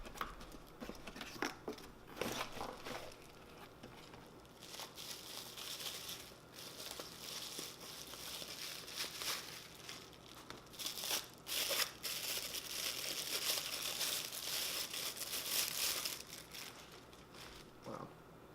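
Packaging of a Canon 50mm lens being opened, heard as continuous close crinkling and rustling of paper and plastic with occasional sharper crackles and tearing sounds over about eighteen seconds, without speech.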